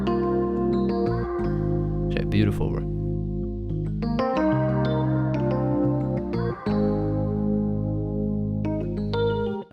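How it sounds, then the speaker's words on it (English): Beat production layer of a Rhodes electric piano with a vocal chop and reverb: sustained, mellow keyboard chords change every few seconds under a chopped vocal texture, while a voice talks briefly over the music. "Next, I layered that Rhodes with a vocal chop."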